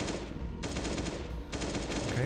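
An AK rifle firing in the Last Day on Earth: Survival video game, two sustained automatic bursts with a short gap between them, loud and close.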